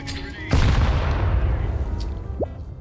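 Gunfire in an online shooter video game: a sudden loud blast opens a dense, rumbling burst of shots that carries on for a couple of seconds, with a brief rising whine near the end.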